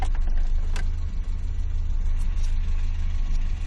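A tuned automatic car engine idling close by, a loud steady low rumble with a slight uneven roughness, no voices.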